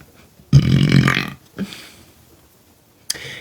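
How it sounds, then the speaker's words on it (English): A loud, drawn-out burp lasting nearly a second, followed by a short weaker one and a brief breathy sound after a pause. "Give me a burp."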